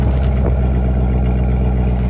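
A car engine idles steadily right after starting, its exhaust stuffed, giving a loud, close, continuous low rumble with no talking.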